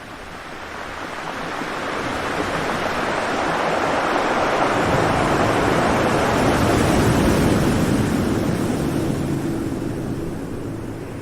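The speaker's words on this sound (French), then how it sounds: "Ce qui me fait du bien, c'est le son de la mer, notamment celui de l'océan Atlantique" Atlantic Ocean surf rolls in as a continuous broadband wash, swelling gradually to a steady roar through the middle and easing slightly at the end, with some wind rumble and no voices.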